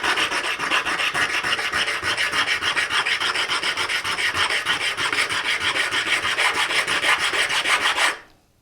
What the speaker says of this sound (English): I hope that's not sounding terrible with the grinding sound.